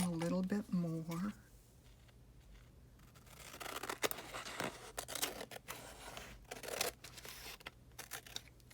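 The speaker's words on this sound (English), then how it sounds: "I think I'm going to cut it down a little bit more" Scissors snipping paper while trimming a piece for a craft journal, a series of close, crisp irregular cuts after a brief stretch of speech at the start.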